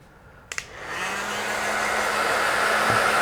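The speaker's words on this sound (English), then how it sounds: "I'm actually going to get the heat gun out. I'm going to put that on a fairly low heat" A heat gun set to low heat, used to soften a decal for an RC model, starts with a couple of clicks and then blows a steady, loud broadband whoosh with a low hum that holds to the end.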